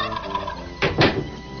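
A turkey gobbles loudly and close, with a quick burst of two rapid gurgling calls following a stretch of quieter background sound.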